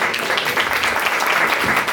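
An audience claps after an introduction at a talk, giving a brief burst of steady, moderately loud applause.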